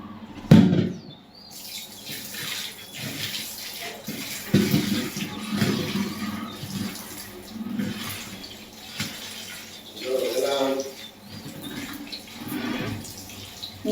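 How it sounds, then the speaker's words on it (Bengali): A kitchen tap runs over freshly cut vegetables as they are rinsed, a splashing, uneven gush of water with clatters and handling noises, loudest at the start and then fluctuating throughout. "সবজিটা কাটা শেষ, এখানে একটু ধুয়ে নিই।"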